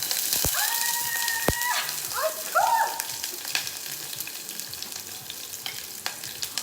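Onions hit hot oil in a saucepan and fry with a steady, crackling sizzle, joined by a few brief tonal squeaks and clinks near the start.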